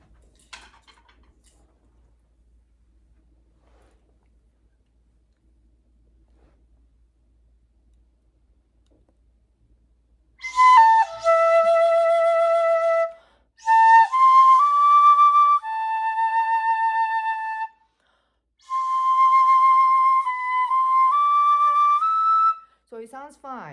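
Shinobue bamboo flute in 8 hon choshi playing a slow, plaintive Naruto melody: clear, breathy sustained notes in three phrases separated by short pauses, played alone after a long near-silent lead-in.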